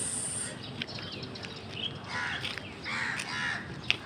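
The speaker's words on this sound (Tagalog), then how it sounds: "ang lapit lang ng mga uwak." Several crows caw at a moderate distance in scattered calls over a steady outdoor hiss in a residential subdivision, with no talking.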